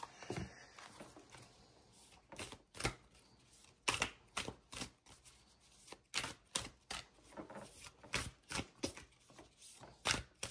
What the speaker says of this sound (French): Je vais vous tirer une petite carte complémentaire pour ce tirage général